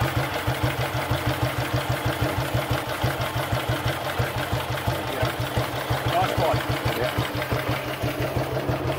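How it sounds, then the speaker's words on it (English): A 1932 BSA Sloper 500cc single-cylinder motorcycle idling steadily nearby, with an even, rapid thumping beat that runs throughout while people talk over it. "Nice quiet engine."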